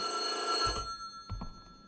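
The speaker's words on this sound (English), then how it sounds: "Am I supposed to answer the phone?" A telephone rings in the horror video game White Day: A Labyrinth Named School, a loud, continuous electronic bell trill that cuts off, followed by a few dull thuds.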